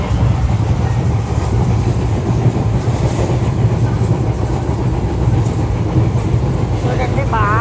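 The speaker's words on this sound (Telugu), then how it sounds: "ఇది పగలు శబరి ఎక్స్ప్రెస్." The daytime Sabari Express passenger train rolls along with a loud, continuous rumble and rhythmic clatter of wheels heard from inside the carriage, with faint passenger voices mixed in.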